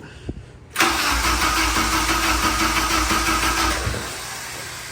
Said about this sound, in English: If you would, crank it over just a little bit.